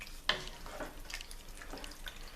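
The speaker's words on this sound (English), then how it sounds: "Gonna stir this all in" A spoon stirs peanut butter curry chicken in a pan, with soft scraping strokes and gentle sizzling in an irregular rhythm, close but quiet.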